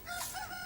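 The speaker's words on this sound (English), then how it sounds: "We can see, I think, a chicken flapping near some huts." A chicken near farm huts gives a short, close burst of clucking with a tonal, crow-like edge, lasting well under a second and heard alone without any talk.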